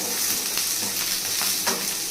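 Garlic fries in a hot pan for a dry chilli chicken dish with a loud, steady crackling sizzle. Faint stirring scrapes come through now and then, and no one speaks.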